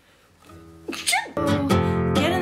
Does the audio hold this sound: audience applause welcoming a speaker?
no